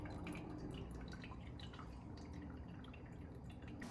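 A Petlibro pet water fountain bubbles and drips quietly, a faint, steady trickle with soft irregular droplet sounds running throughout, close by and with no voices.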